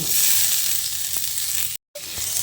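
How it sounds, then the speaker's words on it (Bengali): Cut potatoes fry in hot mustard oil in a wok, a loud, steady hiss of sizzling with a few soft stirring ticks and a brief dropout near the end. "তেলটা ভালোভাবে গরম করে নিয়ে এর মধ্যে কেটে রাখা আলুগুলোকে দিয়ে দিচ্ছি।"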